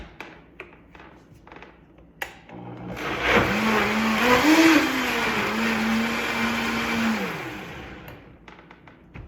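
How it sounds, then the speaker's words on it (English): A blender grinding cabbage in water starts up and whirs loudly for about five seconds, its motor pitch rising and dipping as it grinds, then winds down amid a few clicks. "watch what happens when you grind it up in the blender"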